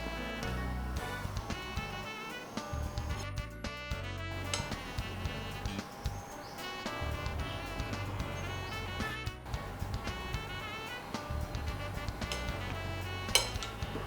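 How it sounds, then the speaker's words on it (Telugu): Chia seeds and milk powder stirred together in a bowl, with soft, continuous clinks and scrapes of a spoon against the dish under a steady background of music. "ఇప్పుడు కొంచెం మంచిగా మిక్స్ చేసేసుకుందాము"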